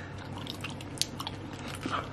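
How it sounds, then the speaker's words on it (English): Wet, close chewing and soft crunching of a candy bologna sandwich, with scattered small squishy clicks and bites over a quiet background, no talking. "I'm still chewing it."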